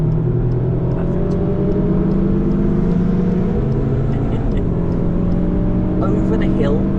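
A car accelerating hard around the Nürburgring Nordschleife, heard from inside as a loud, steady engine drone with rising pitch, while an instructor talks over it.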